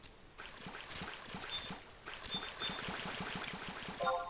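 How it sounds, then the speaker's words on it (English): Water gurgling and trickling in a video game, a steady bubbling flow with soft repeated splashy pulses and faint chime-like tones, continuous at moderate level without talk. "I like how the water's making gurgling sounds."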